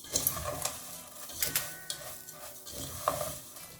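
Scraping and clinking of a utensil stirring vermicelli and sugar in a pan, irregular strokes over a faint sizzle, close by with no talking.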